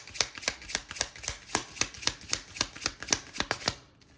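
Tarot cards are riffle-shuffled in a steady run of about fifteen crisp, papery flicks spaced roughly a quarter second apart, close and fairly quiet, with no voices.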